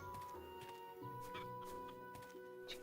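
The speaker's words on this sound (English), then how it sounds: "Chickens." Chickens clucking in the farm game Travellers Rest, a few soft, irregular clucks layered over a steady tonal game background, faint and fairly close.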